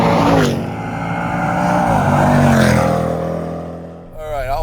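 A 2022 Jaguar F-Pace SVR's engine roars loudly while driving, a rising and falling growl that swells through two surges before briefly easing, then picking up again at the end.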